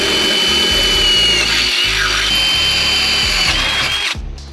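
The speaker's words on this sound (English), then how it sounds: "we paint marked where we need to drill our holes into the frame of the car." A power drill bores holes into the metal frame of a car during a splitter build, a loud, steady high whine with grinding bursts as the bit cuts, close up and continuous until it spins down.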